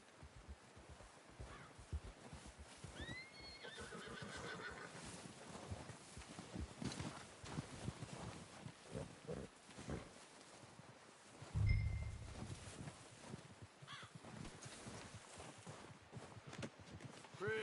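Horse hooves clip-clop steadily over ground in a Red Dead Redemption 2 game scene, with footsteps and rustling mixed in, a faint whinny partway through and a low thump near the middle.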